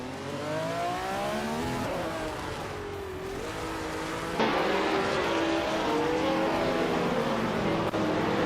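Several race cars battling nose to tail in a racing video game, engines loud and close, revving with rising and falling pitch and shifting gears, with tire noise and no talk.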